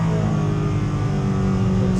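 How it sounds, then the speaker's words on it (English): A Porsche 718 Cayman GT4 Clubsport race car on track at full power, its engine droning as a loud, steady, continuous tone with no pauses across the whole moment, heard from inside the car. "Full power, using all the curb, going into turn 3."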